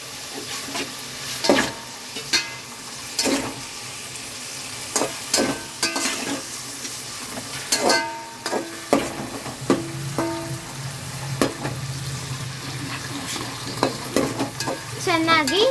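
Ground masala and tomato with onion sizzle and fry in a pan for a Karnataka vada saaru, with repeated sharp scrapes and knocks of a spoon stirring through a steady crackle, close up and without talk.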